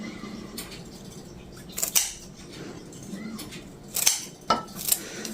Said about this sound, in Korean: 냄비 안에서 이렇게 가위로 썰어서 놓는 편이고요